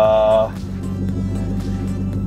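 A salvage-auction project car's engine runs at a steady idle, a low, even rumble that holds for about two seconds after a brief higher tone at the start.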